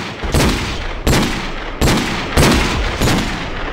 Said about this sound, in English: one of the best guns, even though it's very loud, is the shotgun